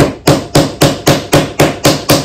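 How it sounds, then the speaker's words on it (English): A metal hammer strikes a saw blade to straighten it, nine sharp, loud, close blows falling in a steady, even rhythm, with no talking. "I had to hammer it back and forth in order to get it straight."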